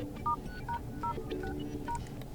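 Keypad tones on a TECNO Camon 20 Pro phone dialer sound as a secret code is entered: a quick run of about eight short, distinct beeps at uneven intervals over faint background hiss.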